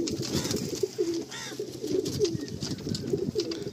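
A Madrasi tournament pigeon, a light-eyed male being handled, gives repeated low throaty coos in a rolling rhythm, close by, with soft rustling between calls.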